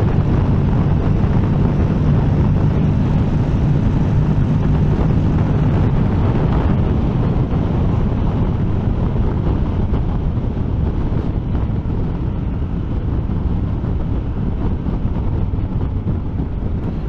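Honda X-ADV 2023 scooter ridden at full throttle, a loud continuous engine roar heavily buffeted by rushing wind across the whole stretch, with no voices.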